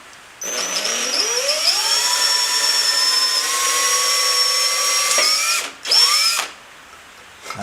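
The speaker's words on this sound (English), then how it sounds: "I'm going to drill a little pilot hole first." A power drill bores a pilot hole into a bracket welded onto an Enfield 350 Bullet motorcycle, its whine rising in pitch as it spins up, running steadily and loudly for several seconds, cutting out briefly, then giving a short second burst.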